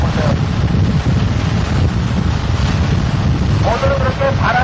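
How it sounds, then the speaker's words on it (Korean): Steady, heavy wind roars into the microphone aboard a boat at sea off Pattaya, Thailand, forming a constant rushing blast throughout, while someone speaks over it near the end. "오늘은 그렇게 바람이 좀 불긴 하지만 파도가 세진 않네요"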